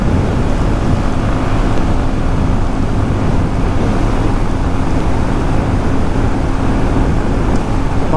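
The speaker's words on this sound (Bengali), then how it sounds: "ও উইন্ডের পরিমাণ প্রচুর বেশি, প্রচুর বাতাস, অনেক অনেক বাতাস।" Strong wind buffets the microphone while riding a motorbike on an expressway, a loud continuous low roar with steady rumble and no breaks.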